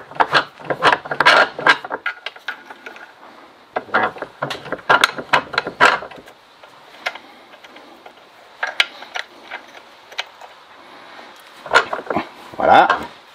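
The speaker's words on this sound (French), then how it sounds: "on met l'autre face de l'outil qui permettra de caler la bielle et de permettre à la bague de sortir. Et on insère ça dans un étau" Metal parts and a press tool knock and scrape as a Solex moped connecting rod is set into a bench vise to push out its bushings, with a series of close, irregular clunks and rattles separated by brief pauses.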